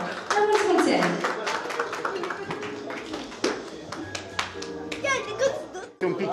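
Guests at a baptism party in Budieni, Gorj, Romania clap in a loose, uneven burst of hand claps close by, with chatter, light laughter and a voice woven through.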